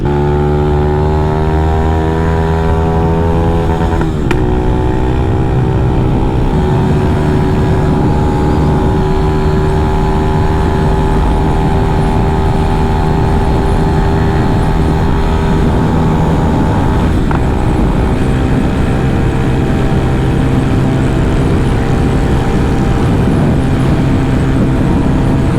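A Honda Wave 125i motorcycle with a heavily power-boosted engine runs continuously and loud nearby, a raspy, raw, aggressive drone with a steady pitch that briefly shifts partway through and holds to the end.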